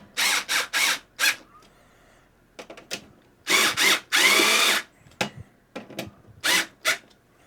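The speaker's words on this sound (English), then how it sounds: "That's a powerhouse right there, drill." A power drill used while building a gaming PC whirs in short, loud bursts of varying length, stopping and starting with brief gaps and clicks between.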